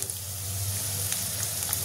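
Chopped onions and curry leaves frying in a pan, a steady close sizzle with a low hum beneath and a few faint crackles, no voices.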